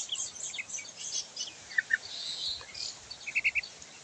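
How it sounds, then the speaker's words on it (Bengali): Myna birds and their chicks chirping, with faint high tweets and short clusters of sharp calls scattered over a quiet background, fairly distant. "এই যে শালিক পাখিটা দেখতেছেন, এরা কিন্তু জোর শালিক পাখি।"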